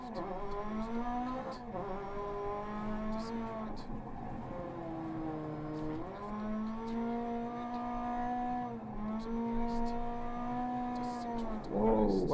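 Rally car in Dirt Rally 2.0 revving and sliding, the engine note rising and falling with repeated throttle changes and faint skid noise, with brief sharp clicks, played at moderate level.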